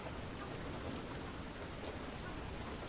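Hail pelts down in the indie video game FAR: Lone Sails, a dense, unbroken hiss of impacts that stays steady and fairly quiet throughout, with no voices.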